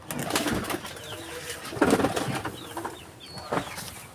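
Pigeons coo in soft, low bursts across a busy, murmuring background, with a louder cooing phrase near the middle.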